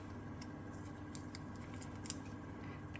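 Scissors snip fantasy film offcuts into small pieces for resin pendants, giving faint, quick crisp cuts scattered over a quiet background, the sharpest clip landing near the end.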